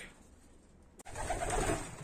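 Young pigeons coo softly and continuously in a loft after a brief knock, a close, steady murmur of birds with no talking.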